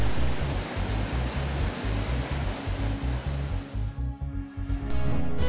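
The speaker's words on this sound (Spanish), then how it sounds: "La catarata de Petatán alcanza una altura impresionante y sus aguas aumentan el caudal del río que atraviesa este lugar." The Petatán waterfall in Huehuetenango, Guatemala, roars as a dense, continuous broadband rush of falling water, loud and steady, easing briefly near the end.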